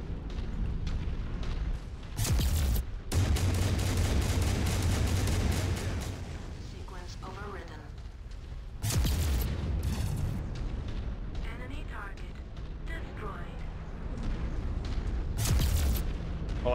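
Tempest cannons boom again and again in MechWarrior 5, with heavy explosions rumbling through a dense, loud battle, and people talk over the gunfire throughout.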